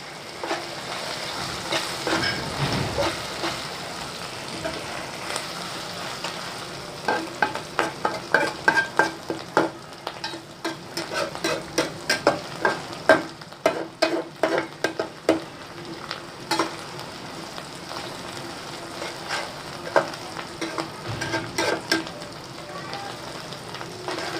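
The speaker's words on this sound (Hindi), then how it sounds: "तो अदरक और लहसुन वाले पेस्ट को ना अच्छी तरह फ्राई करना है" Ginger garlic paste frying in a pan for dal mash, with a steady sizzle and repeated scraping stirs of a spoon against the pan.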